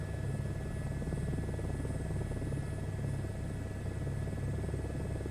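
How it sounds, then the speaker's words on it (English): A helicopter in Microsoft Flight Simulator 2024 taxis down a runway with a steady, close turbine drone and low rotor rumble, unbroken and with no voices. "I've really actually gotten a lot better. I mean, we're taxiing down the runway."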